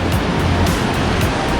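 Cold mountain river water rushes past in a dense, loud, continuous roar, close by and unbroken, with no voices over it.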